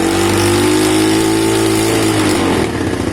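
Keeway motorcycle engine revving steadily at half throttle after a carburetor clean, a loud continuous drone whose pitch sags slightly, then roughens and falters near the end.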